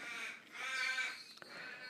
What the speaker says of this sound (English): Crows are noisy today.